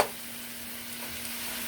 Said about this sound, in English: got my burner back on, so it's going to turn back on again and start frying.